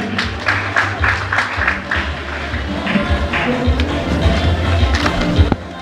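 Audience clapping at a graduation certificate ceremony at a seminary in Moshi, dense hand claps mixed with room rumble and background murmur, fairly loud and continuous throughout.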